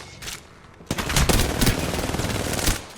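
Rapid automatic gunfire from a video game, with a few spaced shots first and then a loud, dense burst of sustained fire lasting about two seconds.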